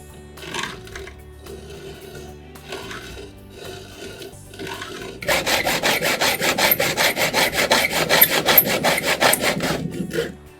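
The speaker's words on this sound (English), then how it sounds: "So now we're going to cut the track with an ordinary hacksaw." Ordinary hacksaw cutting through a 5-foot mounting track, after a few light taps and handling noises: a steady run of rapid back-and-forth rasping strokes, loud and close, with no talking.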